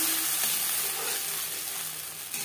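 Tomatoes frying in a pan with cumin and bay leaf, a steady close hissing sizzle throughout that eases slightly toward the end.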